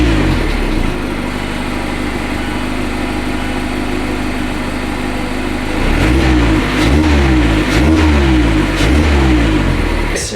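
A Mazda ND Miata engine idles with a steady low drone, then blips through several sharp revs in quick succession, loud and close, with no talking.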